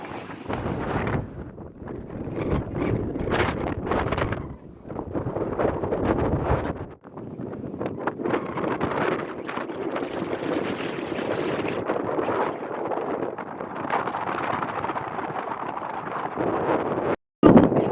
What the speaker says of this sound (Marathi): अशी हवा सुटते ना भारी वाटते गारगार हवा